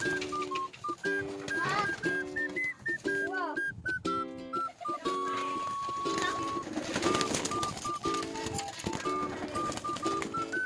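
Pigeons in a loft coo in repeated soft, rolling calls that overlap one another, close by and continuous.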